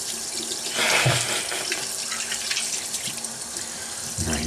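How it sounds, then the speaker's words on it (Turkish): Tap water runs steadily into a sink to rinse off excess shaving foam, a close, constant hiss of flowing water with small splashes and handling sounds. "Fazlalığı sizin için suyla atıyorum."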